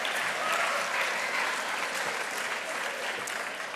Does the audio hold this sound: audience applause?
yes